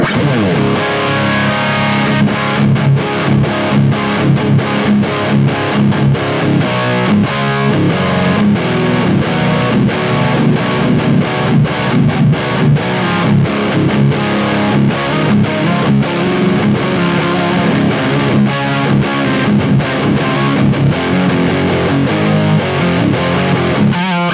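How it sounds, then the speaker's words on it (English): A heavily distorted electric guitar plays chugging metal riffs through a Black Spirit amp with all controls halfway up, boomy, loose tone, loud and continuous with a thick, mushy low end. "So that is very distorted, real boomy, not particularly tight, kind of mushy sounding."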